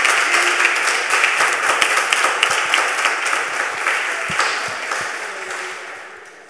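A church audience applauds steadily after a pastor's talk. The dense, loud clapping fills the whole stretch and tapers off slightly toward the end.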